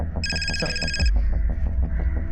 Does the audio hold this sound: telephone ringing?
yes